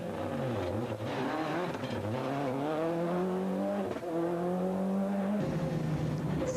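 A rally car at speed on a closed stage of the 2004 Tipperary Stonethrowers Rally, its engine note loud and close, rising and falling through repeated gear changes and revs with no talk over it.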